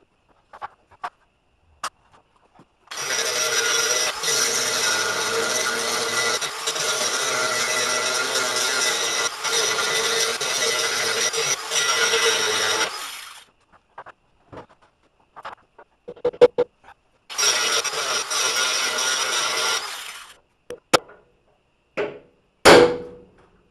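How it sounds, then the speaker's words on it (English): A die grinder cuts through the heads of stubborn carriage bolts holding a diesel van's bumper, a loud sustained buzzing grind of about ten seconds, a pause with scattered clanks, then a second shorter burst of grinding. "I'm just going to grind the heads off."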